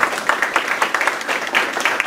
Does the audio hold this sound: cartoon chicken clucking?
no